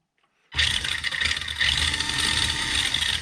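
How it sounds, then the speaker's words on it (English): A vintage Super Champ car engine starts abruptly and keeps running steadily, a loud close rumble with a buzzing mechanical whine, no voices. "The engine works perfectly."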